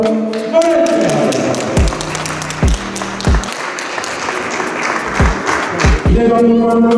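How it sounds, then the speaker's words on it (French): An arena crowd at a WBA welterweight title boxing event applauds a fighter's introduction, the clapping mixed under booming entrance music with heavy, repeated low thumps. "Je vous demande d'applaudir"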